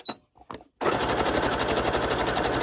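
Sewing machine running a zigzag stitch on scrappy fabric envelopes, a few soft clicks first, then a loud, rapid, steady rattling whir at close range with no speech.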